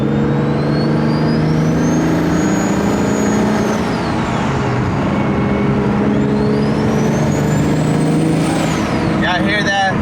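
A BMW E90 sedan with a big-turbo N54 engine making about 700 hp and a T51R turbo drives along while revving, with a loud, steady engine drone, rising turbo whine and rushing air, heard from inside the car.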